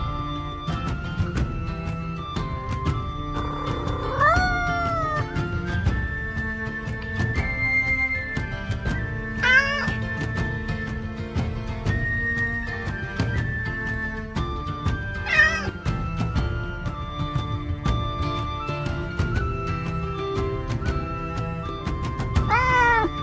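A cat meows repeatedly over a steady musical background, with several distinct rising and falling calls spaced several seconds apart, fairly clear and close.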